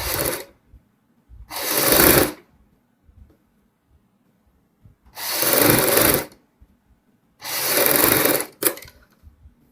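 An electric sewing machine stitches a kurti's neckline and shoulder seam in three separate bursts of rapid whirring, each lasting about a second, with short quiet pauses between them.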